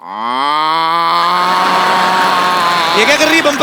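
A voice imitates a cow's moo, one long sustained lowing call close and loud, followed by a brief spoken question.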